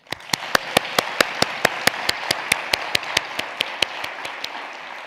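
An audience at a literacy beneficiary announcement ceremony gives a round of applause, steady crowd clapping with one prominent close clapper keeping an even beat throughout.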